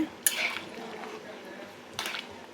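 A spoon stirring a pot of country chicken curry with coconut and potatoes, making a clanking scrape against the metal, then a softer stir and a second clatter, close and moderately loud.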